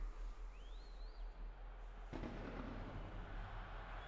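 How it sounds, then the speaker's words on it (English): Fireworks in a football video game go off as a sudden burst of crackling booms midway, following a quieter stretch with a faint whistling rise. "Fireworks."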